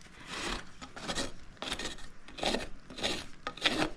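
A rasp files the toe of a neglected pony's hoof in repeated rhythmic strokes, about six scraping passes close up with short pauses between, and no voices.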